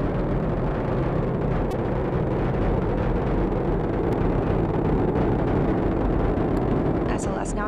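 Artemis I Space Launch System rocket climbing at about 8.8 million pounds of thrust near max Q, heard as a steady, dense broadband roar that fills the whole stretch without a break.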